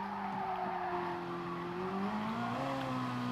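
A race car in a racing video game, lapping Autodrome Lago Maggiore, holds a steady engine drone whose pitch climbs as it accelerates out of a corner, over a faint hiss of tire noise.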